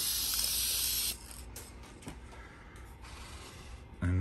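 An aerosol can sprays paint onto a Corvette Z06 model car body in a loud, close hiss lasting about a second, then quiet handling noises, and a second short burst begins at the end.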